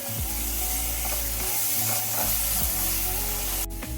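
Coconut burfi mixture with fresh cream, cardamom and a pinch of salt stirred in a pan: a steady close-up sizzling hiss with repeated scraping stir strokes and a low background hum, and no voices.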